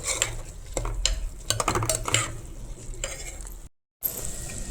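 A spatula scrapes and clatters in a pan as a sizzling masala paste with two red chillies is stirred, close and busy, broken by a brief silent cut before the frying resumes; nobody speaks.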